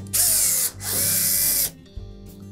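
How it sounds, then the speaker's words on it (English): Power drill backing Phillips head screws out of the back edge of a Samsung dryer's top panel, two loud close whirring bursts of about half a second each with a brief pause between, then quieter mechanical rattle. "you'll need to remove two screws located on the back edge of that top panel"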